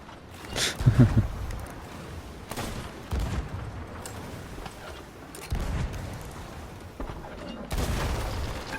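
Ship cannon fire in Sea of Thieves booms out in four heavy blasts spaced a couple of seconds apart over a rumbling background.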